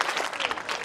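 Brief burst of audience clapping at a school alumni meet, a dense patter of many hands nearby.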